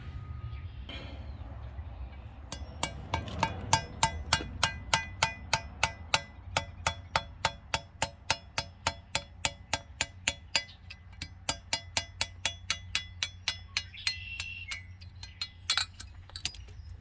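Bushings of a spiral design being hammered out of a part on an International, a long steady series of sharp metallic strikes roughly every third of a second, close and clear over a low background rumble.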